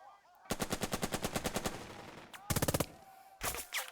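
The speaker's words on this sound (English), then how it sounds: "Let's pelt them with machine gun fire." Machine gun fire in the strategy game Burden of Command: a long rapid burst of evenly spaced shots, then two shorter bursts after a pause, loud and close with no talking.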